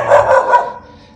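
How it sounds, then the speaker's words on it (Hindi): A village dog barks in a run of loud, close, repeated barks on a quiet residential street, the barking dropping off toward the end. "ये डॉग मुझे भौंकता रहेगा जब तक मैं इसकी आंखों से दूर नहीं होऊंगा।"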